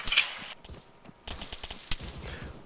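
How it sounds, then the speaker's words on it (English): Military game firefight: bursts of rapid gunfire crack out nearby in quick clusters, with single shots and short automatic strings spread across the moment and a faint distant echo between them. "Taking fire from the west."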